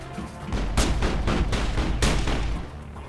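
Gunfire in the video game Mass Effect, loud continuous rattling shots with several sharper cracks, close and dense, with no talking.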